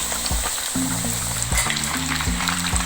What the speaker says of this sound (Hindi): मीडियम फ्लेम पर हमने इसको फ्राई करना है